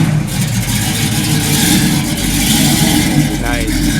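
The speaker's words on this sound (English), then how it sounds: "Okay, so we got a 1968 396 Chevy SS, and he's trying to leave the show" A 1968 Chevy SS with a 396 engine pulling out of a car show, its deep engine rumbling and revving up close, steady and loud under a voice talking.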